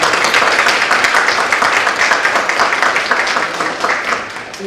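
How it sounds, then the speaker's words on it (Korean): Sustained applause from a lecture-hall audience of students and professors at the close of an engineering colloquium, dense steady clapping that stays loud for several seconds before gradually thinning. "마지막으로 박수로 감사의 표시를 하고 마무리하도록 하겠습니다."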